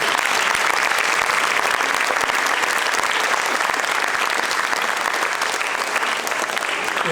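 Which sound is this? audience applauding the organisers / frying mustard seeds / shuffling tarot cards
audience applauding the organisers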